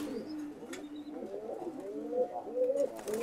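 Adult silver diamond doves coo softly and continuously, low rounded warbling calls overlapping from several birds at close range, with a faint chirp or two above and no talking.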